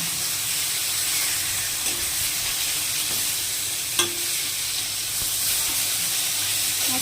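Rohu fish frying in a pan, a constant close hiss and sizzle of oil with a single sharp clink near the middle as the piece is turned, no talk.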